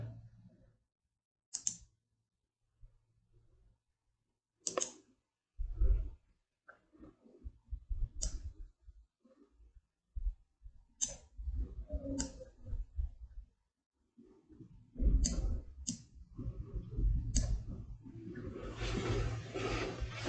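Soft computer mouse clicks while working in PowerPoint, a few single sharp taps spread out among quiet stretches, with faint shuffling and desk noise nearby.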